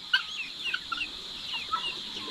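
Farm chickens cluck in short, scattered bursts near a hut, mixed in with ducks and guinea fowl, faint and fairly close over a steady high hiss.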